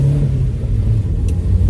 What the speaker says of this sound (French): même le moteur, j'avais oublié à quel point il était puissant